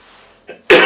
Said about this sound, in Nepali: आज अलिक धेरै नै खोकी लागिरहेको छ है.